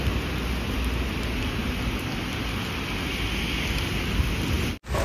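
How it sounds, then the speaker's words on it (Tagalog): Heavy rain pours down at Ocean Park in Hong Kong, a steady, loud, dense hiss of the downpour that fills the whole clip, cutting out for a split second just before the end. "nandito tayo ngayon sa Ocean Park at sobrang lakas ng ulan"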